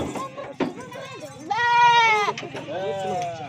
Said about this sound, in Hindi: 2 बकरियां लोड कर दी और ये 3 नंबर पे जा रही है